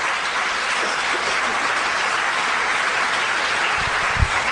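A church congregation applauds in a steady, dense wash of clapping and crowd noise that holds evenly from start to finish, with a couple of low thumps near the end.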